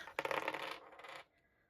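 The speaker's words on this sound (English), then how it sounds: "let's get our dice and see what we get" Dice for a tabletop board game clatter as they are rolled, a dense burst of hard rattling and tumbling for about a second before a quick settle, close and fairly loud with no talking.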